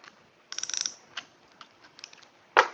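Close, sharp clicking and creaking as a lock nut is slackened on a modified front wheel of a Worx Landroid WR155E robotic mower, a quick burst of ticks followed by sparse taps and a final louder rasp.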